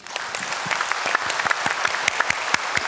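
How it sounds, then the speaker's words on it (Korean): A church congregation at a Sunday service claps together in a dense, steady round of applause, close and lively throughout. "우리 한번 박수 한번 해주세요"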